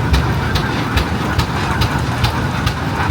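A single-piston Oil Pull F-1530 tractor engine runs steadily up close, a loud low rumble with regular thumping pulses about every half second throughout.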